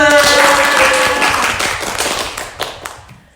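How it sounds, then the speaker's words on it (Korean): Applause from a small group at the close of a Korean picture-book reading and discussion session, with scattered claps over some lingering voices, fading out after a few seconds. "박수!"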